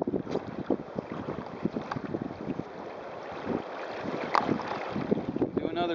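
A sailboat jibing downwind in strong wind: steady gusting wind buffets the microphone with rushing water and flapping, rattling rigging, loud and close throughout.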